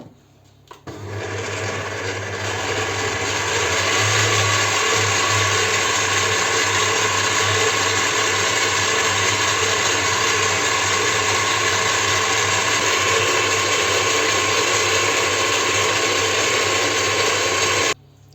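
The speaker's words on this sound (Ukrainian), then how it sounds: "І збиваємо масло, поступово будемо додавати цю макову масу" An electric mixer whips butter for a cake cream, starting abruptly and then running loud and steady with a whirring, gear-like motor drone for about seventeen seconds before cutting off.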